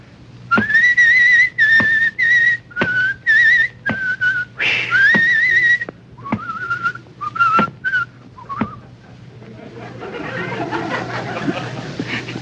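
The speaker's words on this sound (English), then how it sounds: "you go down the cellar steps whistling very gaily" A man whistles a jaunty tune in short bright phrases while heading down cellar steps, clear and close with brief pauses between phrases, trailing into faint rustling noise at the end.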